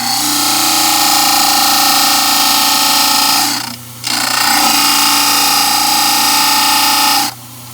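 A dental study model ground on a model trimmer, a loud steady whine with gritty grinding that dips briefly as the model is lifted, then resumes before cutting out near the end.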